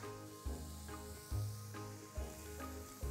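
Coconut king prawns sizzling in a pan with lime, a dense, steady hiss with soft rhythmic stirring pulses about once a second, close and continuous, no voices.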